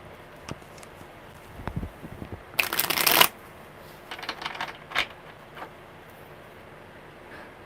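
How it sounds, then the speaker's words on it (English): Tarot cards shuffled in one loud riffling burst near the middle, with softer card handling and taps before and after. "Okay, one more good shuffle."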